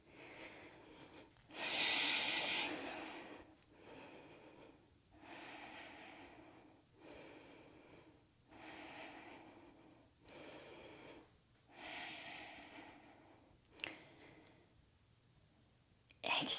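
Deep, slow breathing during a power yoga flow pose, with long audible inhales and exhales repeating about every two seconds, close and soft in a quiet room.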